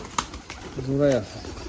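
A Giribaz pigeon gives one short, rounded coo at close range, rising briefly out of a quiet room background with faint ambient noise before and after.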